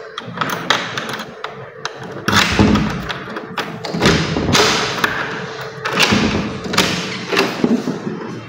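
A stainless steel door in a kitchen area thumps and bangs repeatedly, loud and close, with uneven knocks and rattles following each other.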